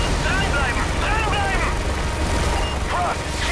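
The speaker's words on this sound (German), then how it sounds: "Wir sehen mehrere feindliche Helikopter in Ihrem Luftraum." An enemy Russian helicopter in the video game Call of Duty: Modern Warfare 3 drones loudly with a dense rotor roar, mixed with combat noise and voices.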